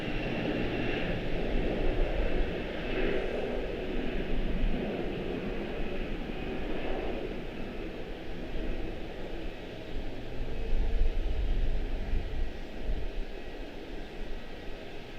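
An Airbus A321 jet takes off from a runway at Charlotte-Douglas International, heard as a steady, broad engine roar that holds at a moderate, distant level throughout, with no talk over it.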